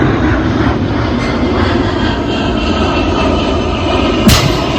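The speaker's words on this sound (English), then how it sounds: "It's an airplane." An airplane passes overhead near a gym, a steady broadband engine roar holding loud through the whole stretch with no voices over it.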